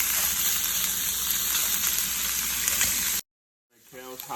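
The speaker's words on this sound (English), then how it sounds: "over here you got the andouille sausage still boiling, and the water for the pasta is still boiling" Andouille sausage and a pot of pasta water boiling on a stovetop give a steady, loud sizzling hiss that runs continuously, then cuts out abruptly into brief silence before faint noise returns.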